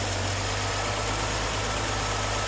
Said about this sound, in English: Ooh, we definitely have an exhaust leak.